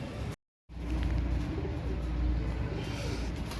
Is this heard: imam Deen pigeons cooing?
yes